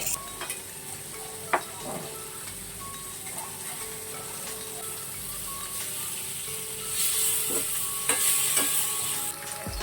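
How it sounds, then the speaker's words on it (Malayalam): A pot bubbles and sizzles steadily on the stove, with a few light clinks of a utensil and the sizzle swelling slightly near the end. "ഇപ്പുറത്ത് നമ്മുടെ കറിയൊക്കെ ഒന്ന് തിളച്ച് വരുന്നുണ്ടേ"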